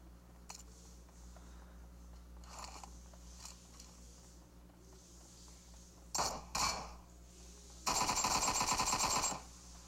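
Gunfire in a shooting video game, scattered single shots followed by two short bursts and then a longer rapid burst of automatic fire, fairly faint over a low background hum.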